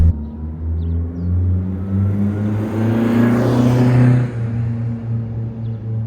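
A Saab 900 with 35-year-old leather seats drives along a road, its steady low engine rumble and road noise droning close and continuous, swelling slightly midway before easing back, with no talking.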